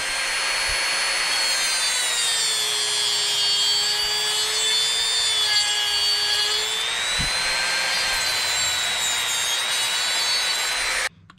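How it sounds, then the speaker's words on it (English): A Dremel rotary tool fitted with a small cutting blade whines at a high steady pitch for about eleven seconds, its tone dipping slightly under load while cutting, then cuts off abruptly. "Nice Dremel tool, little blade, and here we go"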